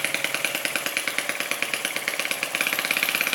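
A small Lister D single-cylinder engine running under load chugs rapidly and evenly, a close, loud, rhythmic thumping beat with no voices.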